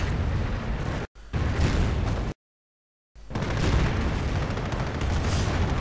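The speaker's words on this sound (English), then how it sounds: "And another volley of rockets fly across the skies" Rocket volley explosions in the Company of Heroes real-time strategy game, heavy continuous rumbling booms and blasts layered together, loud and dense, broken by abrupt gaps of silence.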